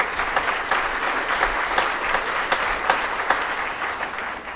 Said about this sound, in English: Big round of applause for these sponsors.